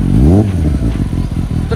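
Close, loud engine of a Kawasaki ZX-10R superbike in rainy weather: a brief rising and falling rev, then a rapid, pulsing throb.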